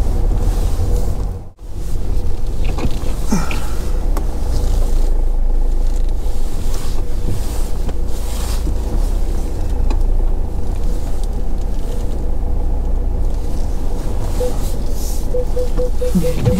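A car on the road: a steady, loud rumble of engine and road noise that runs unbroken throughout, with one brief dip near the start.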